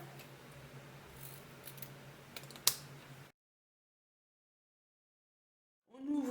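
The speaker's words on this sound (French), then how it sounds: "on coupe les angles." Scissors snip through sewn fabric corners of a multi-pocket fabric clutch handbag, a short close burst of cutting with one sharp snip, then silence before a brief noise at the end.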